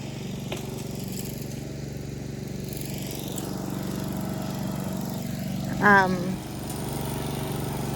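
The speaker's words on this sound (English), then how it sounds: "over there where Nan's mowing" Steady drone of a lawn mower working across a cemetery, continuous and moderately distant, with a brief louder rattling burst near the end.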